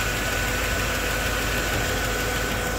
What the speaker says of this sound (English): I also have some footage of the fact that it does have lifter noise